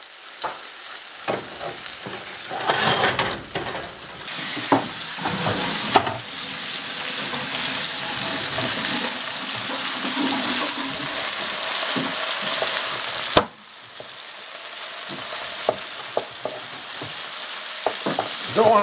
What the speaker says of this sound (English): We'll just brown them up in the pan.